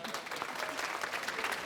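An audience at a debate on secularism breaks into brief, steady applause, a dense patter of many hands clapping at moderate distance.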